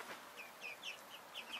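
Chickens and roosters, including a naked-neck hen, cluck softly, a few short, high, chirpy calls repeating close together against a faint, quiet background.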